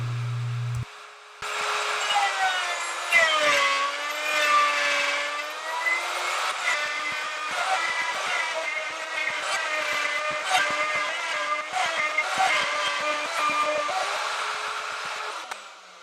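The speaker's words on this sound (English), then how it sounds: "I'm cutting 4 flutes with the index plate setting to 2, 8, 14 and finally 20." A router on a router lathe cuts flutes into a wooden pot, a loud, sustained high whine with wavering pitch that starts after a second and runs steadily for over fourteen seconds.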